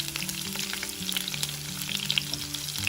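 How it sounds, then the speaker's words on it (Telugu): Sliced garlic and onion frying in hot oil for an eggplant fry, a steady close crackling sizzle that runs continuously with no voices over it. "వెల్లుల్లి గబ్బాలని ఇలా చీలికలుగా కట్ చేసి ఆయిల్లో వేసి వేయించుకోవాలి"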